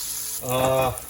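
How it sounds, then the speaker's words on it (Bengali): Fish sizzling and frying in hot oil for an onion fish fry, a steady close crackle that swells briefly in the middle, with no talk over it. "মাছ একদম পারফেক্ট হয়ে গেল। মাছ ভাজা হয়ে গেল।"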